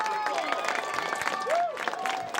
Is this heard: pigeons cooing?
no